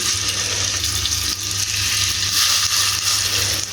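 Chicken seekh kebabs frying in an oiled pan, a steady, loud, close sizzle with a continuous hiss and low hum running unbroken throughout.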